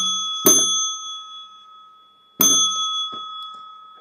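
Two separate rings of a small hand bell used to open dhikr in a Naqsyabandi Sufi study setting, each a bright, sustained metallic ding that decays slowly, spaced about two seconds apart, with no talking.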